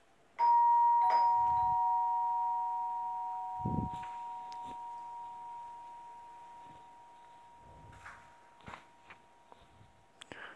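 A doorbell rings once, loud and close, in a home during a Free Fire ranked gaming session, its sustained chime slowly decaying over several seconds beneath scattered faint clicks and footsteps.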